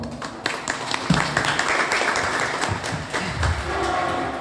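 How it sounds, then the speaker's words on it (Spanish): A symposium audience claps for the organizers: a burst of applause that swells quickly and stays fairly dense, with sharp individual claps and some rumbling background noise mixed in. "un aplauso para ellos, por favor"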